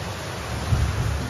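Steady, dense heavy rain at night with a low rumble of thunder rolling underneath, close and continuous, with no voices.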